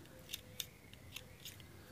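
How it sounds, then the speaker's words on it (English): Small scissors snip yellow crochet yarn: several faint, crisp metallic clicks close by in a quiet room. "And this yellow I'm going to cut off as well."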